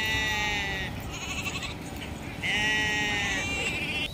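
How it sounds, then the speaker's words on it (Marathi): A flock of sheep bleating near a village pen, with repeated loud, close bleats overlapping in two main bursts over a constant outdoor background. "तर आपण आता मेंढ्या बघतोय."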